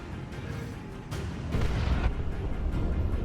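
Heavy D-cannon artillery rumbles in a Dawn of War 2 3v3 multiplayer battle, a deep booming barrage that swells halfway through and continues as a dense low roar with scattered impacts.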